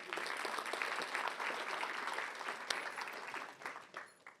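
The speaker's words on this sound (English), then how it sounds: "round of applause to this guy" Audience applause at a conference on marketing and agentic AI as a speaker comes on stage, a sustained wash of clapping that holds steady and then fades toward the end.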